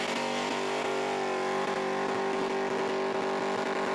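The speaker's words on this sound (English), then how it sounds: "Hard on that limiter once again." A burnout car engine holds hard on the rev limiter, a loud, sustained and steady high-revving drone with a rapid stuttering bounce at the limit, continuous and close.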